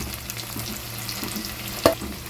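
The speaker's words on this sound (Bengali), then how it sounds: "সমস্ত মশলাগুলোই আমি একবারে দিয়ে দিচ্ছি" Ground spices, including Kashmiri red chilli powder, sizzle steadily in a pan for an ilish fish head dish, a soft even frying hiss with one brief sharp clatter near the end.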